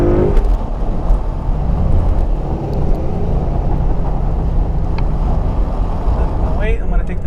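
A 2016 Ford Mustang GT is driven hard through a curve on Pirelli tires, its engine roaring steadily under heavy wind rush, with short speech heard in the cabin.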